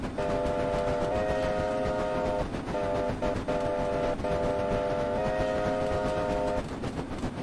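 Whistle of a TSNZ JA Class steam locomotive in the Train Simulator video game, several loud sustained blasts in a broken rhythm over a continuous chuffing, rumbling engine.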